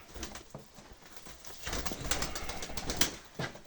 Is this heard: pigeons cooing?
yes